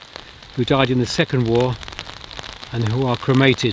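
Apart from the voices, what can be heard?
heavy rain hammering down in a cemetery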